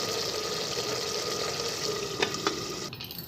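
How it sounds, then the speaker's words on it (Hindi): Mutton keema frying uncovered over a high flame, a steady close sizzle with a few stirring scrapes near the end. "इसको खुला रख के हम सुखा लेंगे तेज़ फ्लेम पे।"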